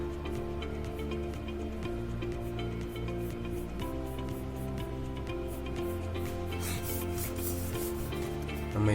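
Pencil shading on paper during a four-point perspective drawing, a steady close scratchy rubbing that runs continuously with a regular back-and-forth texture.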